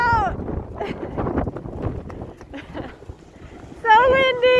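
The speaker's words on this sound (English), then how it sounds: "A little bit windy out." Gusty wind on the Oregon coast buffets the microphone with loud, uneven rumbling bursts, while voices talk and shout over it near the end.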